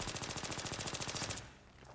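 Rapid automatic gunfire from a machine gun in the video game Battlefield 3, a loud sustained burst of evenly spaced shots lasting over a second before cutting off abruptly into quieter background.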